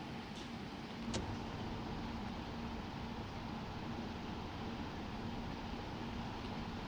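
A massive truck in a truck driving simulator game cruises at speed, a steady low engine drone and road rumble with a faint tonal whine and one brief click early on, no voices.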